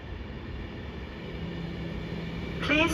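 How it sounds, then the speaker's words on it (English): An Avanti West Coast train pulls into platform 7 at Watford Junction with a steady low rumble that builds gradually, ending in a bright metallic brake squeal. "Please do not board the train now approaching platform 7."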